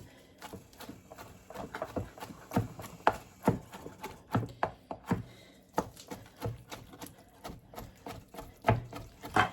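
Crawfish meat chopped with a knife on a board, a run of uneven close knocks and thuds, some spaced and some in quick bursts.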